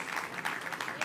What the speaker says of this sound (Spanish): Denle un aplauso fuerte al Rey bendito.